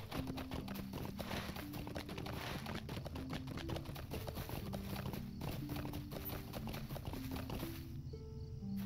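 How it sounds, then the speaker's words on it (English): Horse hooves in The Lord of the Rings Online, a quick, steady clip-clop of a ridden horse over layered game music, fairly quiet and continuous, with a change in the sound right at the end. "There's a horse inside there that I totally spaced out about."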